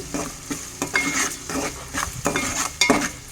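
Onion pieces and ginger paste fry in a pan while a utensil scrapes and stirs, producing repeated metallic clinks over a low, continuous sizzle.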